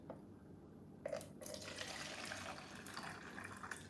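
Water runs steadily into a 2-quart pitcher in a kitchen while making homemade vegetable broth, a continuous close splashing pour with a brief louder gush near the start.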